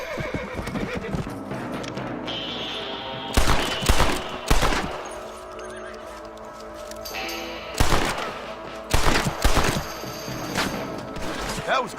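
Gunshots ring out in Red Dead Redemption as rabbits are shot, several loud sharp bursts over horse whinnies and clip-clopping hooves, with a voice speaking in places.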